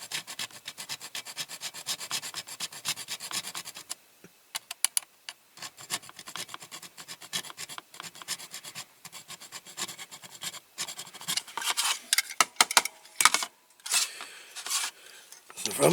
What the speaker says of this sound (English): just going to file these tops of these rivets flat